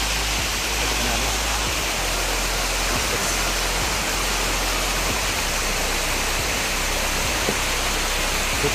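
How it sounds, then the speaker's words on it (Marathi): A small forest waterfall near Hirkani bastion on Raigad fort gives off a steady, close, broadband rushing roar that fills the whole stretch without pause. "आम्ही आता या ठिकाणी एक धबधबा आम्हाला सापडला छोटासा"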